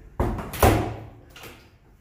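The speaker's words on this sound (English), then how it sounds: "Lock the door." A door thuds shut and a latch or lock clicks right after inside a truck cab at a truck stop, two close, sharp knocks followed by a softer third sound, with no talking.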